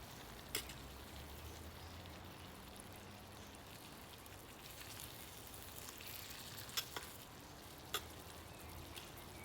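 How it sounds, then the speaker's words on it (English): Oyster mushrooms and onions frying in a pan give a faint, steady sizzle throughout, with a few brief clicks or taps standing out over the low crackle. "Once the onions soften, in go the mushrooms"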